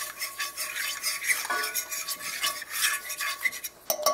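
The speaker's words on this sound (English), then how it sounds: "we're going to stir this around a little bit first. Get it to cooking a little bit and get brown." A spoon is stirred through a browning flour roux in a pan for homemade gravy, making continuous close scraping and rubbing strokes against the pan with a faint sizzle.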